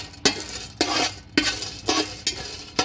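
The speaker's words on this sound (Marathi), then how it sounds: "इथे या पद्धतीने आपण वेलची पण साधारण भाजून घेतोय" Twenty grams of cardamom dry-roasting in a pan over a low flame, stirred in five regular rattling sweeps about half a second apart, pods skittering against the metal, close and clear, no voices.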